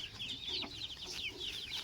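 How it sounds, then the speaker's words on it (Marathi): Free-range native country hens peck grain on a poultry farm, giving a steady, close stream of soft clucks and chirpy calls with no voices. "तुम्ही बघू शकता ह्या गावरान कोंबड्या आहेत, कशा प्रकारे दाणे टिपताना तुम्हाला दिसत असतील"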